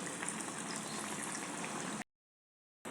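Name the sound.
bread pakora frying in oil on medium gas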